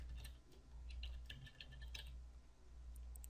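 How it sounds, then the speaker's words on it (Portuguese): Typing on a computer keyboard: faint, sparse clusters of crisp keystroke clicks in an irregular rhythm over a quiet room hum. "Agora digitei no search revocation"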